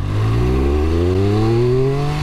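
Triumph Speed Triple RR motorcycle accelerating hard in first gear, a loud close engine note climbing steadily in pitch over about two seconds with no talk.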